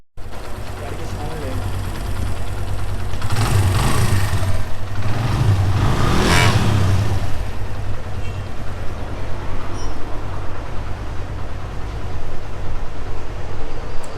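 Tuned Suzuki GS150 motorcycle engine running steadily close by, a continuous low idle hum that swells louder midway as the throttle is blipped, then settles back to a steady drone.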